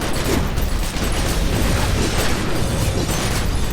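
A bomb goes off in The Secret World video game, producing a loud, dense, sustained blast roar that fills the whole stretch without letup.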